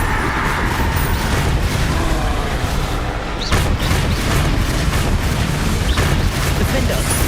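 Loud, dense battle noise from Hogwarts Legacy with a Bombarda spell explosion, a sharp blast partway through amid constant rumbling effects and overlapping voices.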